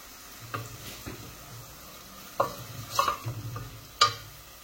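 Onions frying in a pan for a small fish curry, stirred with a few scraping strokes that come as brief bursts over a soft, steady sizzle, with no talk.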